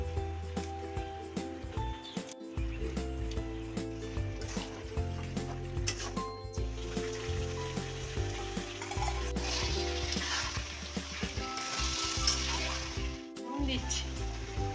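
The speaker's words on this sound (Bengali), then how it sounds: "আমি এই মাংসটা দিয়ে এবার একটু কষি, তারপর আসি।" Chicken pieces sizzle and crackle steadily in hot oil in a pan while being sautéed with biryani spice, with stirring scrapes mixed in and a voice talking intermittently over the frying.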